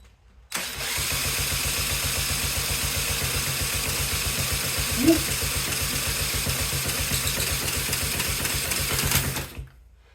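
A 1970 Honda CT70 motorcycle engine cranks on its electric starter, catches and runs at a steady, rapid putter for about nine seconds before cutting off.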